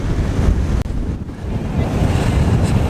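Strong coastal wind buffets the microphone on King Island, a loud, continuous roar layered with surf, with no break except a brief dip near the start.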